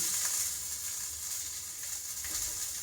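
Small shallots and chillies sautéing in a pan, a steady close sizzle and hiss running throughout with a few soft stirring movements and no voices.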